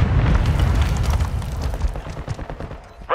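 A flashbang grenade detonates in Call of Duty: Modern Warfare II hardcore mode, a heavy booming blast that rumbles and decays over a few seconds, followed by scattered crackles and a sharp final hit.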